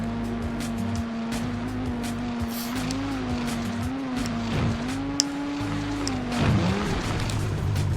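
Buzzing snowmobile engines in the PS1 game Snocross Championship Racing drone steadily with a rising and falling pitch, joined by whooshes and faint clatter as machines race, sounding synthetic and game-like.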